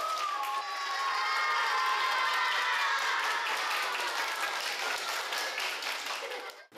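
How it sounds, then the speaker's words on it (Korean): A classroom of children claps together to end a lesson, a dense burst of applause with a few cheers that holds steady for several seconds and then fades out quickly. "다 같이 박수로 수업을 마치겠습니다"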